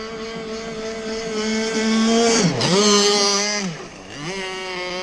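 Zenoah marine engine buzzing on its first test run, the sustained harmonic drone rising and dipping in pitch as the throttle changes, loud and close throughout.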